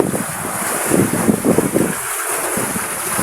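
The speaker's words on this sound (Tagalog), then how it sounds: "naglalakihan na ang mga alon" Large sea waves surge under steady wind on open water beside a small fishing boat, a continuous broadband wash with swelling surf pulses, close and moderately loud, with no talking.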